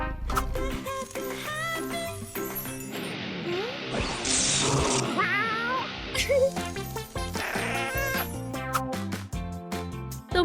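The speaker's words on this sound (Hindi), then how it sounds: "तुम सबसे प्यारी बिल्ली हो।" An animated cat meows amid busy cartoon music and sound effects, short bright mewing calls rising above the score in the middle.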